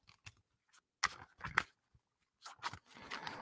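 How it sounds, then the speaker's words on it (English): A tarot card deck being shuffled by hand, a few sparse quiet riffles and soft card flicks separated by brief silences. "I gotta tell you that the deck shuffles pretty well."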